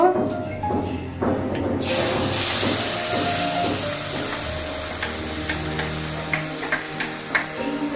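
Taro leaf paste hits hot oil already holding black cumin, setting off a loud, steady hiss and sizzle with scattered crackles and pops that carry on without a break.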